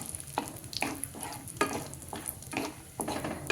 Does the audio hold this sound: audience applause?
no